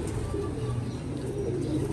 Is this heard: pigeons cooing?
yes